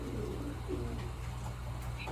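Racing pigeons cooing softly amid a loft after a 157-mile race from Orland, California, over a steady low hum and background noise, with a few faint calls rising briefly.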